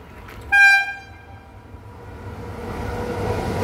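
Bengaluru–Bhubaneswar Prasanthi Express overtaking on the line near Duvvada: one short, loud horn blast, then a low rumble of passing rail cars building gradually.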